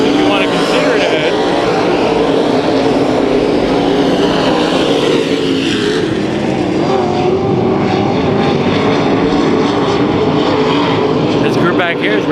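Race cars in a heat race at Kings Speedway, a continuous loud engine roar that swells and fades as the pack circles the track, with a commentator talking over it.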